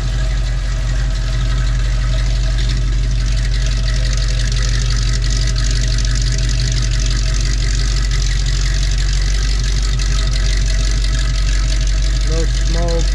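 A fully restored 1957 Chevrolet Corvette engine idles steadily and loudly up close, a continuous low rumble that runs smoothly throughout with no other sounds over it.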